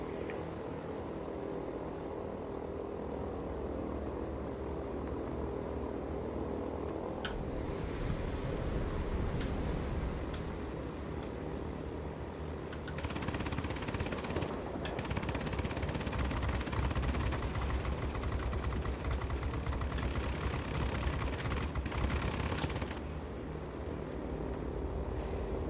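Continuous droning engine roar of B-17G bombers in a video game air battle, with intermittent rattling machine-gun bursts cutting through the steady loud drone.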